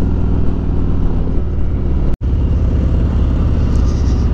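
A 2018 Harley-Davidson Street Glide rumbles along on a test ride, its engine a loud, low, steady throb under wind buffeting, broken by a brief dropout midway.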